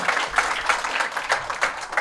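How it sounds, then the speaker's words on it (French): Dense, steady applause from an audience at a business export talk, a continuous wash of many hands clapping with small swells, and no voices above it. "On peut l'applaudir évidemment"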